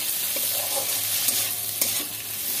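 Eggplant and onion frying in stingray fish oil in a home kitchen pan, a soft, even sizzle with a few light stirring knocks, close but fairly quiet and with no voices.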